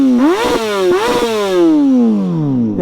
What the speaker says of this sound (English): Let's give it a little revs, a couple revs.